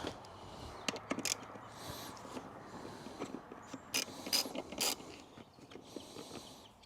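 Seat bolts undone on a Moto Morini Vettore 450 motorcycle: faint mechanical clicks and ratcheting taps over a low, steady background, with no talk.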